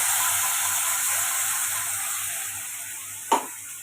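Spice paste for butter chicken meets hot oil in a pan and sizzles with a steady, bright hiss that slowly fades, ending with a short clatter near the close.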